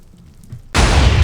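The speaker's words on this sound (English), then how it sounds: "Oh, that was a big explosion." A large explosion in the Tiberium-harvesting video game erupts suddenly after a quiet stretch, a loud broadband roar that stays heavy and sustained to the end.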